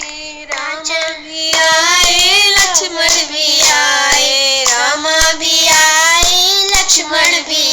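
Devotees clapping along to a Hindu devotional song to Maa Kali, rhythmic hand claps keeping time beneath prominent melodic singing, loud and continuous.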